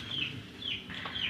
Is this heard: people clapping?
no